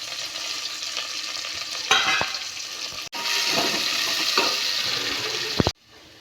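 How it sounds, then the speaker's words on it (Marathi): Onion and curry leaves crackle and sizzle in hot oil for a tempering, with a steady frying hiss, scraping stirs and a few sharp clinks before it abruptly stops. "फोडणी टाकून दाखवलं ना. फोडणीला दिलं."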